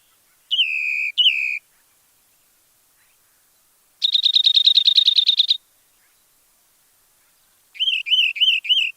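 Bird calls from Carpinteria, snowy plover or wren: two short whistled phrases, then a rapid trilled burst, then a series of repeated upslurred chirps, clear and close with silence between.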